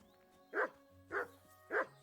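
A dog in Kingdom Come: Deliverance II barks three times at a steady, roughly half-second spacing, each bark fairly loud and close over a quiet game ambience.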